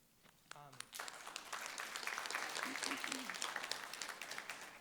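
Audience applause at a national conference swells up after a brief spoken phrase and holds as a steady, dense clatter of many hands, fairly loud in the room.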